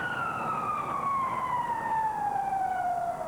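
A police car siren wails during a pursuit on a motorway, one loud continuous tone sliding steadily downward in pitch over a constant traffic roar.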